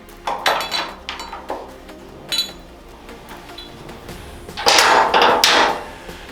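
Metallic clinks and knocks from removing the last bolt and a metal support under the rear fender of a 2023 Suzuki GSX-8S motorcycle, several sharp taps early on and a louder cluster near the end.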